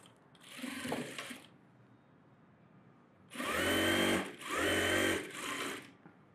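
Sewing machine stitching the sleeve of a net model blouse, with a short run of stitching followed by two longer, louder bursts with brief pauses between, close by and without talk.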